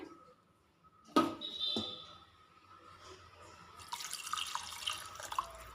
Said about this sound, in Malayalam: ഇതിലേക്ക് ഞാനൊരു ഒന്നര കപ്പ് വെള്ളം കൂടി ചേർത്ത് കൊടുക്കുന്നുണ്ട്